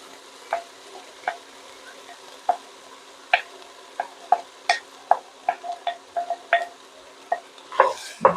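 A spoon knocks and scrapes around a soup pot of lasagna soup as browned meat gets stirred back in, giving irregular close clinks over a faint background hiss.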